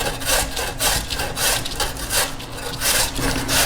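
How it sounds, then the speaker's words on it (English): A washed, peeled potato is rubbed hard against a regular kitchen grater in quick rhythmic strokes, a close, loud rasping scrape repeating about every third of a second with no voices. "We have our regular kitchen grater, and we've got one washed and peeled potato, and now we're going to grate the potato"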